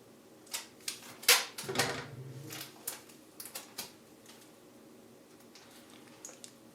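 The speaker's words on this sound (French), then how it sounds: "Ensuite je vais prendre du scotch." Adhesive tape is pulled and pressed on during eye makeup, a series of close, sharp peeling rips and soft taps in a quiet room, fading to faint handling sounds.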